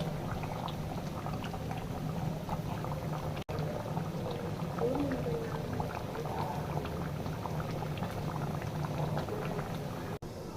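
Potato curry simmers in broth in a pot, with soft, continuous bubbling that stays faint and even from start to finish.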